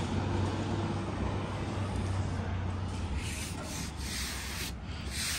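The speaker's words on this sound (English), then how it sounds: "Sanded this." Sanding across a leaking balcony surface with a steady abrasive rubbing that runs continuously and fairly loud, close by and with no talk over it.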